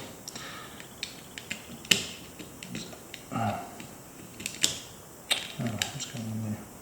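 Small screws being driven into a Nintendo Game & Watch Multi Screen handheld with a screwdriver, heard as sharp close ticks and ratcheting clicks in scattered bursts, with brief scraping handling sounds between them.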